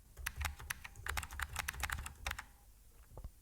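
Password being typed on a computer keyboard, a quick uneven run of close, crisp key clicks lasting a few seconds with a short pause near the end.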